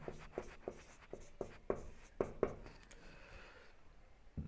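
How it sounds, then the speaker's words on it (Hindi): Pen writing notes during a Hindi-language maths lesson on profit and loss: faint, close scratchy strokes in an irregular rhythm, each stroke a short tap, with the room otherwise quiet. "नोट में हम एक लिखेंगे"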